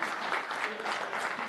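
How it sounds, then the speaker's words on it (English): Audience applause fills a legislative hearing room, a steady dense patter of many hands clapping at moderate level throughout, with no speech over it. "if I could get a hand clap"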